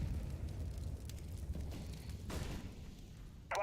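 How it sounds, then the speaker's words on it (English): A flashbang grenade goes off in a tactical shooter match, a muffled thump and bursting hiss rising mid-stretch over low game rumble, fairly faint and distant, with a sharp crack at the very end. "Deploying flashbang"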